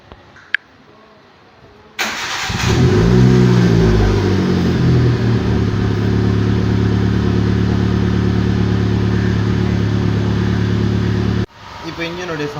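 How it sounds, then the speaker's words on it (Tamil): Hyundai i10 with a loud, faulty silencer: the engine cranks and starts, revs up, then runs loud and rough for about nine seconds before cutting off, with faint sounds before the start. "இப்போ நான் வண்டி ஸ்டார்ட் பண்ணுறேன் பாருங்கள்."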